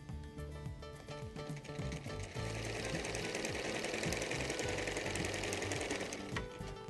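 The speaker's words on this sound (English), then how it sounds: "Then we move it back under the machine and start sewing from the very edge." A sewing machine stitches fabric from the very edge, giving a steady, close, dense mechanical whir with rapid needle clatter that holds at a constant pace throughout, with no talking.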